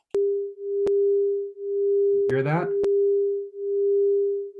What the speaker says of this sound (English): What you're hearing is called a beat frequency.